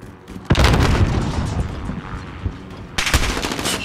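Rapid video game gunfire in a multiplayer Headquarters match, with bursts of shots and loud booms at the start and again near the end, plus dense firing in between.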